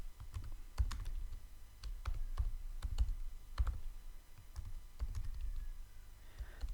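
Steady typing on a computer keyboard, irregular key taps continuing throughout at a moderate, close level with no voices.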